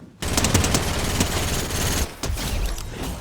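Fortnite gunfire rattles in a loud, continuous barrage of rapid shots, dropping out briefly before resuming in heavier bursts.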